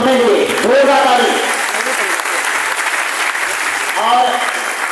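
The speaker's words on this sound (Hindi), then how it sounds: "चलिए जोरदार ताली आप अपने लिए, जोरदार ताली।" Sustained loud clapping from an audience at a morning training session, steady and dense throughout, with faint voices calling out over the applause.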